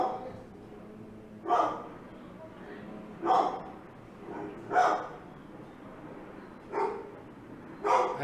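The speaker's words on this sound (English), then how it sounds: "Dog is barking." A dog barks five times, in single loud bursts spaced about a second or two apart, with faint background hum and no talking in between.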